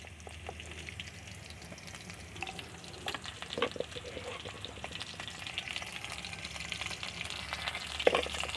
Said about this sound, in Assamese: কাটি থোৱা ভোট জলকীয়া কেইডোখৰো তেলতে দি দিছোঁ